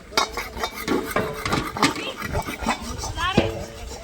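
A pet licks metal dishes and pots outdoors in a village, making scattered clinks and scraping rattles that come close and irregular while a voice speaks over them.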